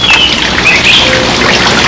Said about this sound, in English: I can hear those birds chirping